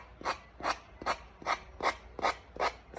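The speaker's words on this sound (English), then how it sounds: "sand off the edges of your cowl" Sandpaper rubbed over the edges of a DIY wooden cow shelf sitter, eight even rasping downward strokes in a steady rhythm, close and clear with no talking.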